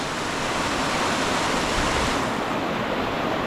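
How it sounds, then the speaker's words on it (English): Natural water runs steadily down a Welsh hillside, a dense, continuous rushing wash that stays loud and close throughout with no voices over it. "All the natural water running down here."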